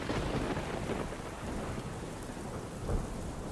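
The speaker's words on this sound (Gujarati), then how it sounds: "સમી સાંજે એકાએક જ વરસાદ છે તે વરસી રહ્યો છે" A sudden heavy evening downpour in Ahmedabad city pours as a steady, dense roar of rain hitting surfaces, with thunder rumbling low beneath it and a slight swell near the end. No voices are heard.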